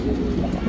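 Pigeons from a bonded pair give a brief, low, steady coo, close and continuous, with no talking.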